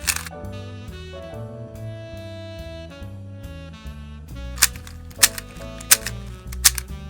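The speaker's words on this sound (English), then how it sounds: "scramble up the cube" A speedcube puzzle is scrambled by hand, its plastic layers turning with a few loud, sharp clicks and clacks near the end, heard over a steady backing of music.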